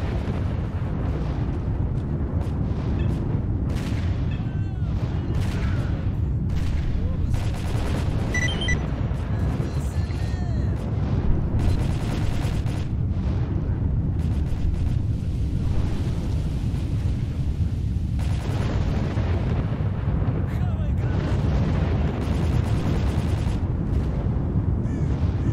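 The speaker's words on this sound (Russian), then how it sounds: "Что за стрельба? Кто кого?" Continuous rumbling gunfire and booming explosions from the game S.T.A.L.K.E.R.: Call of Pripyat, dense and distant-sounding, rolling on without a break.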